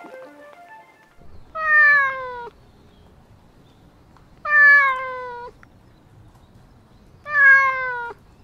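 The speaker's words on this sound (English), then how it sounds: "Oh, there's a kitty cat over there." A cat outdoors in Arashiyama, Kyoto gives three clear, drawn-out meows at regular intervals, close and loud against a quiet background, with a brief word spoken near the start.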